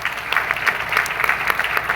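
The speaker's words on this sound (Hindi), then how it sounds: "जोरदार तालियां हो जाए जरा एक बार।" Applause from a seated audience at a marketing company's motivational event, steady clapping with crowd noise throughout, fairly loud and close, without speech.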